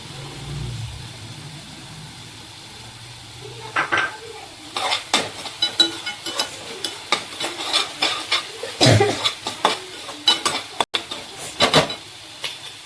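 Green chillies go into hot oil for a paneer dish. A brief sizzle is followed by repeated loud scraping and clanking as a utensil stirs them in a metal pan, close with no speech.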